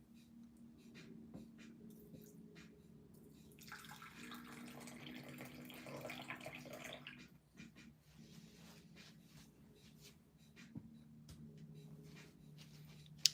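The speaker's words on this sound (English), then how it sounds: "And then I'm just going to fill it with hot water." Hot water runs from a tap or pours into a cup of tea indoors, with a soft, faint, steady trickle that swells in the middle, under a low background hum, with no talk.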